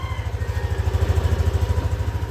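A Yamaha Aerox V2 scooter engine runs at idle with a rough, coarse tone, a close, loud, steady pulsing throb that continues evenly throughout with no talking.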